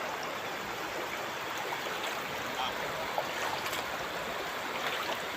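Clear river water in an Indonesian river flows in a steady, dense rush, with an even broadband wash running the whole time and no voices over it.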